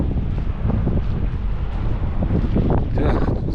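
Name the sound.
strong wind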